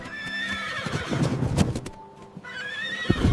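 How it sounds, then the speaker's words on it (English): A horse whinnies with a long, rising-and-falling neigh, followed by a few close hoof clops, all heard alone against a soft background. "H is for horse."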